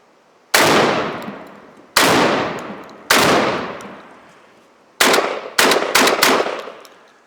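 A Benelli M4 shotgun firing low brass light loads outdoors: three loud single blasts with ringing decay, a pause, then four more shots fired closer together.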